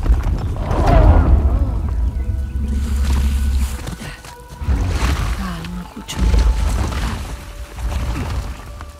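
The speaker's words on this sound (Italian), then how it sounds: "Quelle esplosioni devono aver causato il crollo." Deep booming explosions and rumbling collapse in the video game Uncharted: The Lost Legacy, heavy low blasts rolling in several waves across the clip, with brief voices in between.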